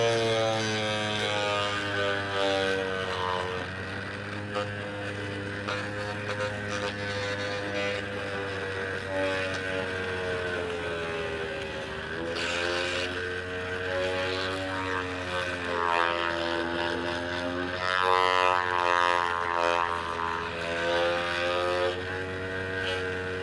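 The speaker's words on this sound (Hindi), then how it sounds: "चलो लगाते हैं मोटर में, चालू करते हैं इसकी भी घिसाई" A small electric motor spins a loose-fitting toy tractor tire against sandpaper, giving a steady, loud whine with stacked harmonic tones that wobble and shift in pitch as load changes, continuous throughout with no talking.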